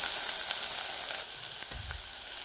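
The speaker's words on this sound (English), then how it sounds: "Add in the sliced carrot, bell pepper, capsicum, and the garlic cloves. Cook until the veggies are tender." Carrot, bell pepper and garlic sizzle steadily in hot oil in a pan, a continuous bright frying hiss with a brief stirring clatter near the end.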